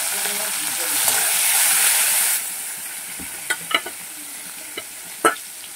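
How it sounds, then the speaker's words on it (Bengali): Oil sizzles steadily as shrimp fry, loudest in the first couple of seconds, then quieter crackling with a few sharp clinks of a utensil. "দেখো চিংড়িগুলোকে ভেজে নিচ্ছি।"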